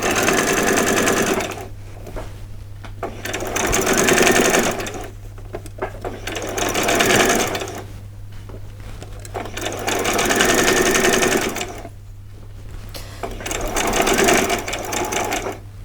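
A sewing machine runs in four long bursts while stitching a vet's scrubs top, with short quiet pauses between runs and a steady low hum underneath throughout.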